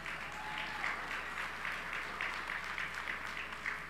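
Audience applause at an interfaith breakfast event, steady distant clapping from a large room, faint and uniform across the whole span with no voices over it.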